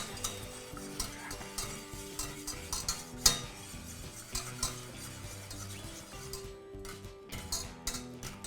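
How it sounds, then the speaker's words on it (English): Butter being whisked into a beurre blanc sauce beside seared scallops, with soft rhythmic whisk clicks against the pan and a faint sizzle, one sharper knock, and music underneath. "So now, step by step, I bring in the butter into my sauce. And I keep on whisking."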